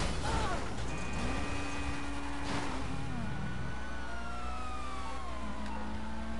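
Police car siren in the GTA video game, a rising and falling wail over a constant engine rumble that keeps on for several seconds amid game traffic noise.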